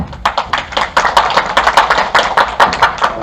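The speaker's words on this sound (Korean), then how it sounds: "큰 박수로 맞아주십시오" An audience at a lecture on wellness and healing programs applauds to welcome a professor, producing dense, steady clapping from many hands that stays loud and close throughout, with no voices over it.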